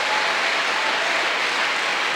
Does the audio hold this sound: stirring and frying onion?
no